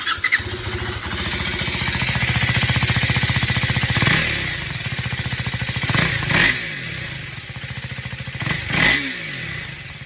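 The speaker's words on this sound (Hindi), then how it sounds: "उससे पहले एग्जॉस्ट नोट सुनवा देता हूँ।" A 2025 KTM Adventure 390X motorcycle idles close by with a thumping single-cylinder exhaust beat, punctuated by several sharp throttle blips that rev up and fall back to idle, with no talk.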